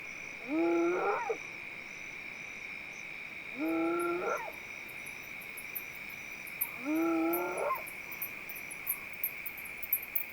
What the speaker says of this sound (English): When it's not hunting, the spotted hyena makes a variety of sounds to communicate with its group.